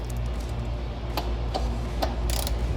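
A socket wrench with a 15mm socket ratchets on the front bumper bolts of a Ford Bronco, giving rapid close clicking with a few sharper ticks over a low steady background hum.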